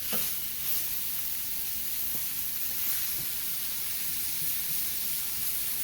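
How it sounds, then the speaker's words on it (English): Steak searing in a hot pan, a steady bright sizzle and hiss continuing evenly and loudly without pause. "So go ahead and get both sides seared nice and good"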